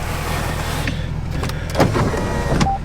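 The V8 engine of a high-mileage Dodge R/T with 250k miles idles as a low steady rumble, joined by the whir of a power window and a few short clicks.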